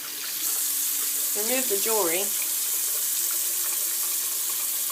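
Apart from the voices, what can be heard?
water running from a tap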